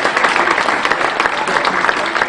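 Applause for flag bearers at a French commemorative ceremony, a steady dense clapping from an assembled crowd lasting throughout, fairly loud and even with no voices over it.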